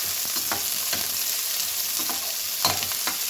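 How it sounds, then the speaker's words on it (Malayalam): Onions sizzle steadily in ghee-free oil in a pot for a one-pot sweet corn vegetable rice, with a spoon scraping and stirring in repeated strokes, close and continuous with no talking. "ഉള്ളി ഒന്ന് വഴറ്റിയെടുക്കാം."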